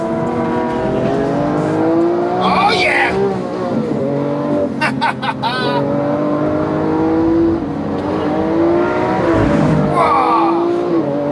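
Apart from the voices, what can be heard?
sports car with V12 engine accelerating hard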